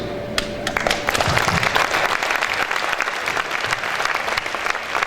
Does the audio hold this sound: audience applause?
yes